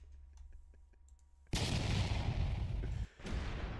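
An explosion sound effect added in OBS bursts in suddenly after quiet clicking, a loud sustained roar that briefly cuts out and resumes, with no talk over it.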